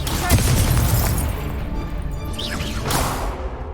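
A Confringo explosion spell goes off in Hogwarts Legacy, a loud booming burst that swells and rumbles with a crackling, whooshing tail, followed by a second softer surge.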